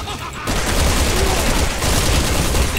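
Rapid volleys of gunfire from a zombie battle in the Resident Evil 6 video game, loud and dense after a short quiet start, with crackling bursts running continuously.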